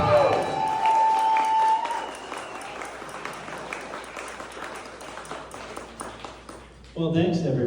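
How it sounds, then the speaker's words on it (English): An audience claps steadily for a welcomed speaker at an evening community event, sustained applause fading slightly before a voice starts speaking near the end. "you can continue to applaud"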